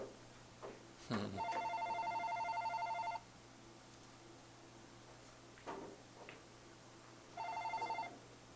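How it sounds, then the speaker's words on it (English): A telephone rings in a hall during a straight pool tournament, with two bursts of bright electronic trilling, one about two seconds long and a shorter one a few seconds later, heard moderately loud over a quiet room with a steady low hum. "Phone."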